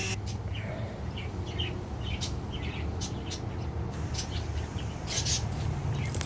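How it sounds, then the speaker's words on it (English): Birds chirping outdoors, with scattered short tweets and calls popping out over a steady low background rumble, some calls near and others farther off. "You guys hear my birds? Aren't they so nice sounding?"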